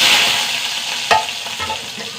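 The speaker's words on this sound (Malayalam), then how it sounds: "കുറച്ച് വെളിച്ചെണ്ണ ഒഴിച്ചു കുറച്ച് കടുക് കൊടുക്കുക ചെറിയ ഉള്ളി ഒരു അഞ്ചാറ് ചെറിയ ഉള്ളി" Mustard seeds and small shallots fry in coconut oil with a steady bright hiss throughout, one sharp crackle standing out near the middle and softer pops after it.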